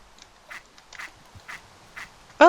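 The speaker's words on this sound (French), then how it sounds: "Oh, c'est des canards, c'est rien de dangereux." Ducks quack in a modded video game, a series of short quacks repeating at a fairly regular pace, faint against a quiet background, before a sudden louder tonal sound at the very end.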